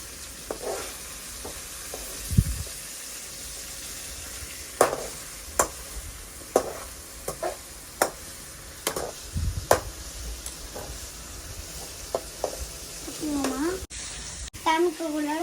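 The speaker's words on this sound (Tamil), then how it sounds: "நல்லா ஃப்ரை பண்ணணும்" Food fries in a pan until golden, a low steady sizzle punctuated by sharp scraping and clacking from a spoon stirring at irregular intervals.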